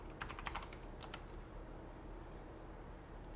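Brief bursts of fast clicking from a computer keyboard during work on a game in Unreal Engine 5, faint against a steady background hiss, then quieter, with no talk.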